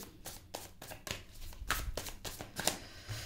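Tarot cards being shuffled by hand close up, a run of soft papery riffles and slaps with no talking.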